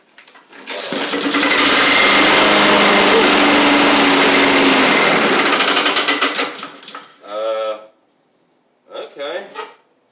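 A Husqvarna push mower with a Honda GCV160 engine fires after pull-starts on a cold day and runs loud and close for about five seconds before dying, followed by someone talking nearby.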